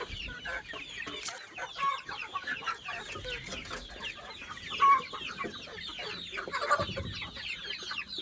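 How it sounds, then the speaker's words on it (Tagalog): A flock of chickens clucks continuously up close around feeding, with dense overlapping calls and a couple of sharper, louder outbursts, no voices present. "papakain muna ako ng manok"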